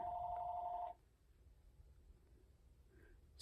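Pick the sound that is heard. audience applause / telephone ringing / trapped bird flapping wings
telephone ringing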